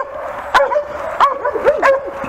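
A dog gives three short, sharp barks near a farm building, evenly spaced and loud and close, with faint whimpering yips between them and no talk.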